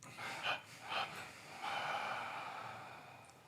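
Slow, quiet exhalations during a guided meditation: two short breaths out followed by a longer, drawn-out exhale, close and soft in a calm room.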